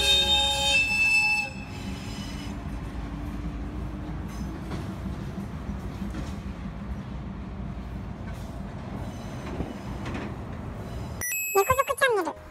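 Diesel locomotive rumbling steadily across the Murata River truss railway bridge, a 1911 American Bridge Company span on the Keiyo Rinkai Railway, with a loud low engine drone throughout and a brief bright clanking burst near the end.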